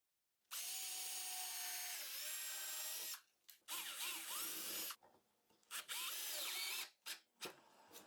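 A power drill drives screws into a wooden birdfeeder roof, with a long whirring run followed by several shorter bursts with pauses, close and clear with no talking.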